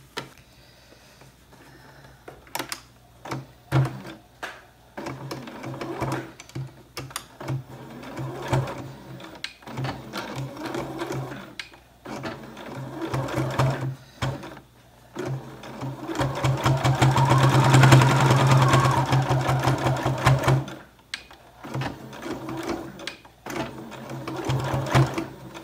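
Sewing machine stitching a washable fabric filter face mask, with runs of rapid needle ticking that stop and start, growing louder and steadier for a sustained burst near the end, up close with no talk.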